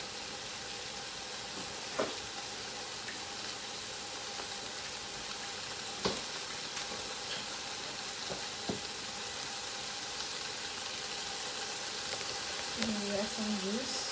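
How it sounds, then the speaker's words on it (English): Pork sautés in a pan with a steady, broad sizzle that runs throughout, broken by a few sharp clinks from utensils; a voice is heard briefly near the end. "So we're sauteing."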